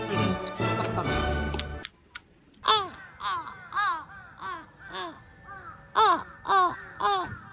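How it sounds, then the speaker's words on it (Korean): Several crows caw repeatedly outdoors in Osaka, loud and fairly close, in a rhythmic series of harsh calls that follows a brief burst of clattering music. "까마귀들이 많네."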